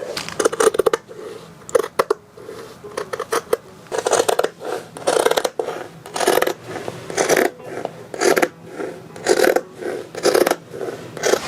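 Fabric for re-upholstery being cut with scissors: a long run of crisp, rhythmic snipping strokes, close and fairly loud, with brief pauses between bursts and no talking.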